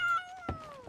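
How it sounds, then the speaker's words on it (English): A cat lets out one long, drawn-out meow with a falling pitch, close and clear, with a couple of faint knocks partway through and at the end. "And now your cat's just screaming at the death of you."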